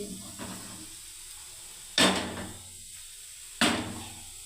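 A tawa griddle is set down on a kitchen stove, giving two distinct metallic clanks spaced a second or so apart, each loud and close with a short ringing decay, after a softer initial knock.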